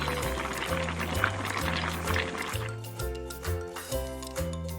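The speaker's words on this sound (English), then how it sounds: "Boiling." Liquid bubbling at a boil in a kitchen, a steady low churning and gurgling under a continuous bed of background music.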